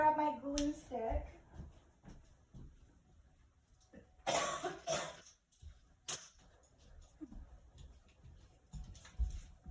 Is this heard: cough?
yes